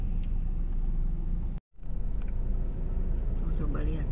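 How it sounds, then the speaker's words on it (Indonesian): Heavy stop-and-go traffic at the Lippo Karawaci mall entrance rumbles with low idling car and truck engines, a steady dense drone broken by a brief dropout, with people talking nearby. "Oh, macetnya parah banget ini."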